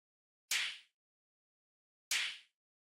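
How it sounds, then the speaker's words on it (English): Two short, crisp snare hits spaced well apart, each a bright papery crack that dies away quickly with no lingering ring. "play this dry type of snare here"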